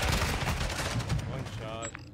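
Video game gunfire rattles in dense, rapid bursts from two directions, loud and continuous, with voices talking over it.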